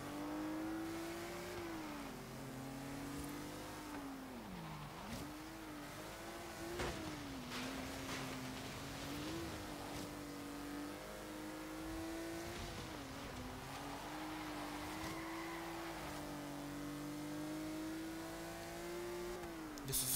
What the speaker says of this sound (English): Love the noise this car makes at the top end.